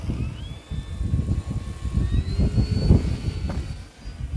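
An E-flite Draco 2.0 electric RC plane's big motor droning at full throttle into the wind, a loud steady buzz with rising and falling whine tones as it passes overhead.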